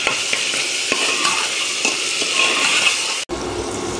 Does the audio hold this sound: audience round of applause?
no